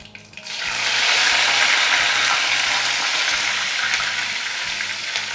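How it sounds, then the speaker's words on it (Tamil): Mustard seeds splutter and sizzle in hot oil in a pan, a dense crackling hiss that rises quickly and holds steady at close range. "கடுகு நல்லா வந்து பொரியுது"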